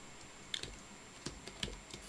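Quiet keystrokes on a computer keyboard as a folder name is typed, a handful of light clicks spaced irregularly over about two seconds against a faint steady hum, with no talking.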